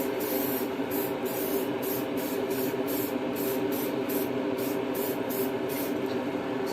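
Black vinyl dye sprays from a can onto Nerf blaster parts in a continuous close hiss, pulsing faintly in rhythm as the parts turn on a small turntable.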